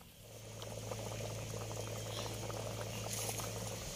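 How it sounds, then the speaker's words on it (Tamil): Goat intestine curry boiling in a covered pot, giving a steady, continuous bubbling simmer with a low hum underneath throughout. "நல்லா கொதிக்குது குழம்பு."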